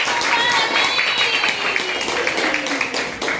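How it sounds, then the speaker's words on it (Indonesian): A class of schoolchildren clapping their hands together in applause, a loud dense patter of many small hands close by, with a few faint voices mixed in. "Tepuk tangan."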